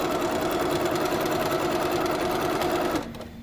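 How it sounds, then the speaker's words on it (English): A Little Rebel sewing machine runs steadily, stitching quilt binding with a dense, even mechanical whir for about three seconds before it stops abruptly, leaving a quieter tail. "Back stitch just a little bit, and we can sew."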